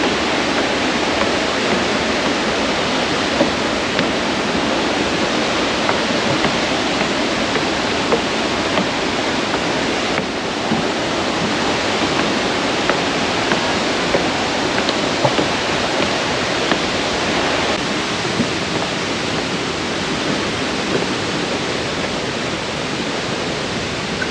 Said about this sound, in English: Waterfalls and swift river currents cause dangerous undertows and deep holes in the river bottom.